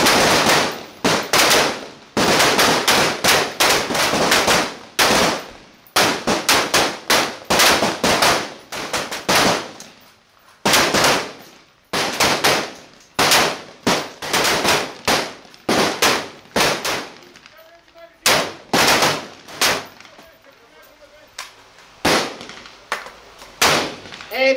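Rapid bursts of rifle fire from trainees on a basic military training firing range, sharp cracks repeating in dense volleys with brief pauses, loud and close, with no talking.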